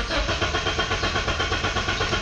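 A BMW E36 engine cranking right after a new fuel pump install, a steady rhythmic churning of the starter turning the engine over without catching, close and continuous.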